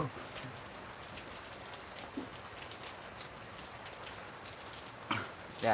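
Steady rain falls on an outdoor surface in Jakarta or Tangerang, a soft continuous hiss with scattered drip-like taps, faint and fairly distant, with no talk over it.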